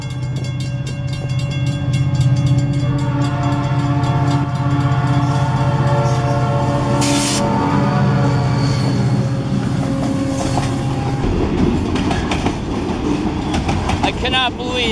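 Loud, close freight train of the Escanaba & Lake Superior line rolling past on the tracks, a sustained rumble with a horn tone and rhythmic wheel clatter, while people talk faintly underneath.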